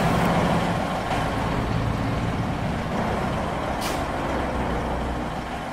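A big rig's air brakes release with a loud, steady hiss and a sharp burst partway through, over continuous engine rumble, in the video game American Truck Simulator.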